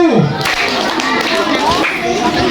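Children at a Ramadhan Islamic boarding school class clap in a rhythm game, sharp claps mixed with young voices calling and chanting over them, close and lively.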